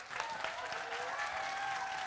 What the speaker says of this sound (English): Can you all give yourselves a massive round of applause?